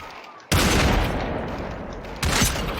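Rapid bursts of gunfire in the VR shooter Population One, a sudden loud volley that sustains for about two seconds and then a second burst, close and dense.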